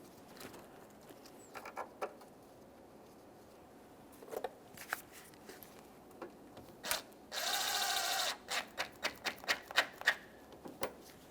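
Bolts fastening the front bumper of a 2003-2009 Toyota Corolla are run in and snugged with quick ratchet clicks in short bursts, then one continuous whirring run of a power tool for about a second, followed by more rapid clicks, all close and fairly quiet.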